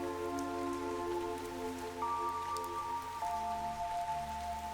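Steady rain falls in the video game Fantasian Neo Dimension, an even, continuous patter under sustained synth tones and music, with no talk.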